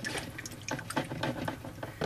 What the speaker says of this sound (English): A little bit of water will drip out here.